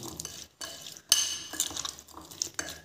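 Small puti fish are stirred by hand in a metal bowl with a poppy seed paste marinade, giving close, uneven scraping and soft clinking in short bursts.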